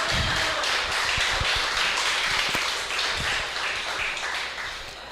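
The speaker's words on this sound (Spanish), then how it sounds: "Brindémosle un fuerte aplauso al Señor Jesucristo en esta noche" A congregation at an evening evangelical church service applauding together, a dense steady wash of clapping with scattered sharper claps, close and loud, fading slightly at the end.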